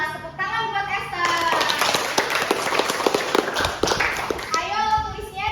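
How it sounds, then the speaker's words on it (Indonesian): A classroom of young pupils claps for a classmate in a dense, lively burst of quick hand claps, with children's voices mixed in, before the clapping fades out. "Tepuk tangan buat Esther."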